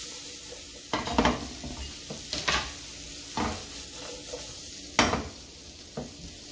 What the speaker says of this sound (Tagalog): Then, we add the onion